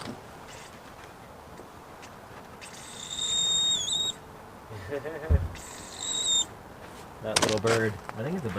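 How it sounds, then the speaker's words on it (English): A small bird calls in short, thin, high whistled notes in a few separate bursts near a beehive, over a low buzzing background with faint movement sounds. "That little bird, I think it's a bird, always makes that noise."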